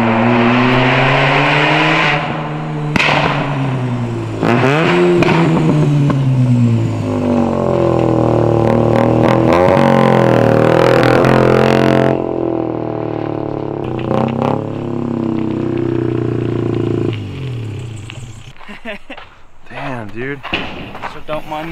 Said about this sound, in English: Nate's coming here with the RX-7